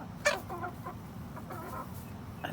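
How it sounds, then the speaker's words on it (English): Chickens and a rooster cluck softly in a backyard flock, a few short clucks and murmurs at a modest distance with no talk. "I think he said Godzilla for the rooster"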